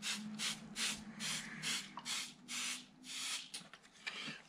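A handheld nebulizer sprayer mists water onto a watercolor painting in repeated short bursts, each a soft airy hiss with a steady rhythm, close and moderately loud, with no talking.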